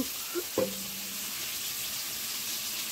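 Egg with a little turmeric powder frying in hot oil, a steady faint sizzle running throughout with a brief clink near the start.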